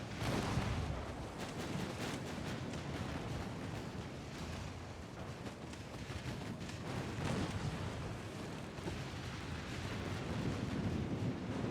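Naval gunfire in an Ultimate Admiral: Dreadnoughts battle against a heavy cruiser, heard as a dense, continuous roar of booming shots and rumbling blasts that hold steady and loud with no clear pauses.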